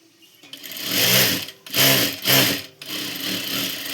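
A sewing machine stitching the back strip of a katori blouse runs in loud bursts, whirring steadily with brief pauses between runs.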